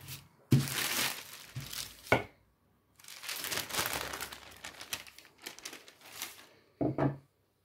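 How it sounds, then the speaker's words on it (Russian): Dough being rolled out between two sheets of parchment paper for flammkuchen, giving loud crinkling and rustling bursts that come in separate waves with short pauses between them. "Можно использовать при раскатке второй лист пергамента и вот так раскатывать"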